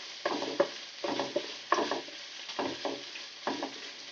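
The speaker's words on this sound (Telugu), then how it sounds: "అల్లం వెల్లుల్లి పేస్ట్ వేసాం కదా, కొంచెం పచ్చి వాసన పోయేంత వరకు ఫ్రై చేసుకుందాం." Onions with ginger garlic paste frying in a pan for chicken curry, heard as close, rhythmic stirring strokes roughly every second over a soft sizzle, each scrape ending in a light knock of the spoon, with no voices.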